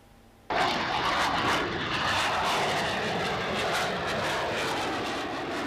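Military aircraft roaring past at an air base open day, a loud, continuous jet engine rumble that bursts in abruptly and holds steady, broad and close, with no talk over it.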